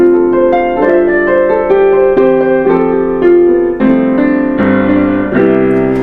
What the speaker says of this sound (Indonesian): Dan yang didengar ini adalah suara piano murni dari speaker ini.